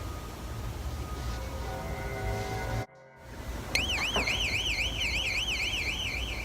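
After a brief cut, an electronic alarm starts up nearby with a loud, continuous warbling wail that rises and falls steadily over a constant background hiss.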